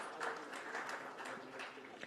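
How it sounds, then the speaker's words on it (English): An audience claps at a formal art presentation event at The Leela hotel, a steady, moderately faint round of applause without any break. "Please give them a round of applause."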